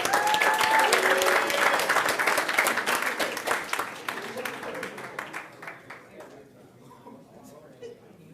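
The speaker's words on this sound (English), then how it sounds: "Clap it up for that." Applause for an award winner at a virtual promotion ceremony, a dense wash of many hands clapping that starts loud with voices and whoops mixed in, then thins out and fades to scattered claps.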